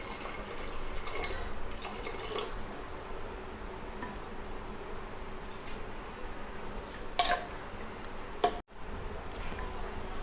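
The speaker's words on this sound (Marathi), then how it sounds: "मी आता थोडंसं पाणी ॲड करते" Water poured into a pot of chicken biryani, a soft continuous trickle and splash near the start, followed by quieter clinks and a brief sharp knock near the end.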